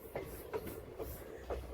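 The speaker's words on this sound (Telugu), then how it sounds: "సో మన ట్రైన్ అయితే పర్లాకిముండి రైల్వే స్టేషన్కి అయితే వచ్చేసింది అన్నమాట" Gunupur fast passenger train 58506 rolling into Paralakhemundi station, wheels clicking over rail joints in a regular clickety-clack rhythm under a steady low rumble, heard from on board, no talk.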